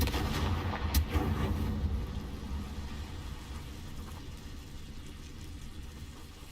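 The Confringo fire spell explodes in the video game Hogwarts Legacy, a loud booming blast near the start that fades into a long, low rumbling tail.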